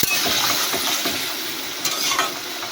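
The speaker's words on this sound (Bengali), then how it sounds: "এবার আমরা জল দিয়ে দেবো দিয়ে এটাকে একটু নাড়িয়ে নেব" Water poured into a hot pan of a home-cooked okra and fish roe dish while it is stirred, giving a loud, steady sizzle and hiss with scattered scraping clicks throughout and no talking.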